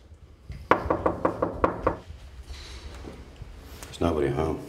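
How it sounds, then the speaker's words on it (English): Knuckles rap on an apartment door in a quick run of about eight firm knocks, close by, followed by a pause and then someone talking. "Shall I knock? I think you should knock."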